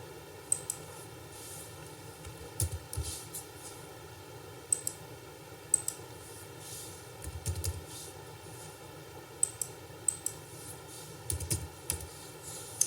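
Soft, sparse keystrokes on a computer keyboard as data is entered into a table in MS Word 2007. The clicks come in small scattered clusters over a steady low hum, and no one speaks.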